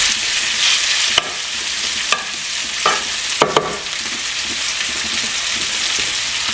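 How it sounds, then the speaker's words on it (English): Steak sizzling as it fries in a pan, a steady loud hiss of hot fat with a few sharp pops and crackles, close up and alone. "So we're going to cook our steak."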